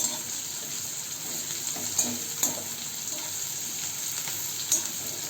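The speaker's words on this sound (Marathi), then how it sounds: "त्यामुळे तेलात एकसारखी अशी परतवायची त्याला." Ivy gourd (tondli) pieces fry in hot oil, a steady close sizzle with a few sharp crackles and pops scattered through, no talking.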